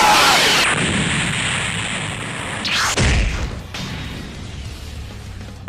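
Vegeta's Big Bang Attack from the animated battle lands as a loud blast with a long roaring rush and sustained high hiss that fades, followed by a heavy boom, with no voices.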